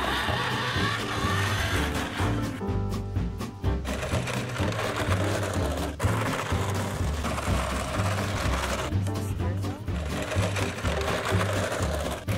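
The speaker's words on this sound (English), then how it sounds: "So that is the Barbie RC Cruisin Corvette." A Barbie Cruisin Corvette, a hot pink convertible R/C doll car, drives with a steady high-pitched electric motor whine and gear buzz, running continuously and loud at close range with slight changes in pitch and no voices.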